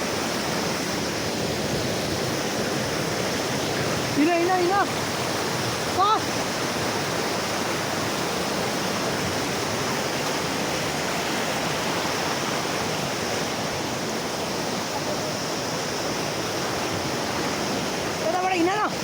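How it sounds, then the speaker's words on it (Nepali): A swollen, flooded river rushes past in a loud, constant broadband roar that lasts throughout, with a few brief spoken words over the water. "यस्तो छ खोला चाहिँ बढेर डेन्जर छ"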